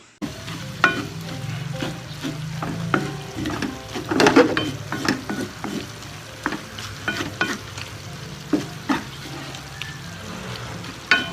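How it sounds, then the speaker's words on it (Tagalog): Ilocano igado, a pork and liver dish, sizzles steadily as it fries in a pan. A spoon stirs it with repeated scraping clinks close by. "Haluin natin saglit."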